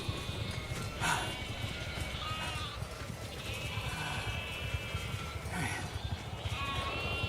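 Sheep bleating in the video game The Alters, several wavering bleats over about seven seconds against a busy background with faint clip-clop and bell-like tones.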